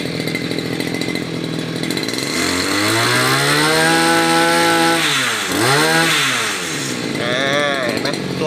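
A used Japanese Rabbit brush cutter, small two-stroke engine warmed up, revs loudly and close, its pitch climbing, dipping and rising again in repeated throttle blips, with a voice speaking over it.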